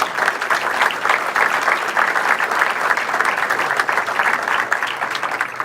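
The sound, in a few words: audience applause for co-chairs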